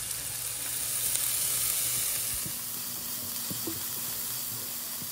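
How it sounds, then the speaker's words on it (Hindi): Onions with ginger and green chili frying in a pan, a steady, close hiss of sizzling oil with a few soft clinks of stirring and no talk. "प्याज को थोड़ा चलाने के बाद अब मैं इसमें डालूंगा अदरक और ग्रीन चिली।"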